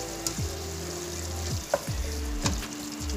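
Cabbage and meat stirred and fried in a pan with garam masala, a steady sizzle under intermittent scraping and stirring strokes, close and moderately loud, no talking.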